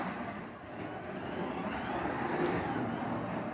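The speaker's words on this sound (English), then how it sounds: "You can tell already it sounds quieter. Those hard tires really transfer noises." Carrera D124 BMW slot car running on softer replacement tires, a steady broadband whirring hum that holds nearly constant throughout with no voices.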